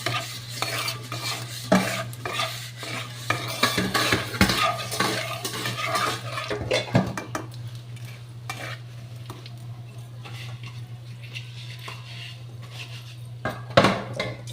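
Torn dried red chili and whole white cumin seeds fry in oil in a pan, with steady stirring, scraping and utensil clatter over a low hum, and a few sharp knocks near the end.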